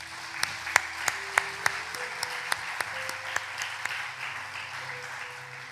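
Church worshippers clap in a sparse, steady rhythm over soft sustained keyboard tones, each sharp clap distinct and fairly faint in the room.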